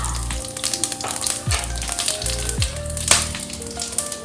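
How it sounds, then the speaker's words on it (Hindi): Cumin, whole garam masala, dry chilli and bay leaf fry in hot oil, giving a steady close crackle and sizzle with spatters and a couple of utensil scrapes over a low background hum; no talking. "अब तेल गरम हो चुका है, इसमें मैं जीरा, कुछ खड़े गरम मसाला, सूखा मिर्च और तेजपात डालूंगी। इसे फ्राई करें।"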